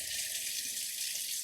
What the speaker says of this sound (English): The water pump's on.